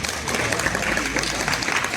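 Applause from an audience at the Singapore Motorshow, a steady wash of many hands clapping at moderate volume, with voices faintly underneath before it cuts off abruptly.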